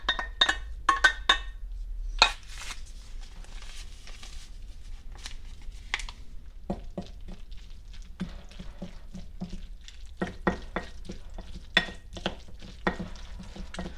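Drained macaroni being stirred for mac and cheese, with scraping and clinking spoon strokes coming in irregular bursts, some sharper clacks near the start, close and moderately loud with no talking.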